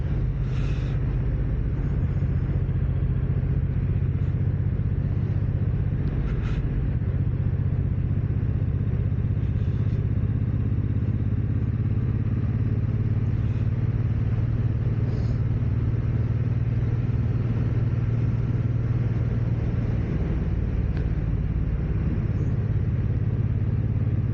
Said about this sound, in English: I know the M109's a heavy bike, but I don't think it's that heavy.